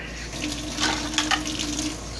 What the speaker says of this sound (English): we'll start with 3 cups of water